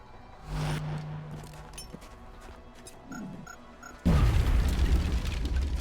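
An alien grenade detonates in the video game XCOM Long War, a sudden loud, deep blast with a rumbling tail that follows a stretch of quieter clicks, beeps and soft mechanical game sounds.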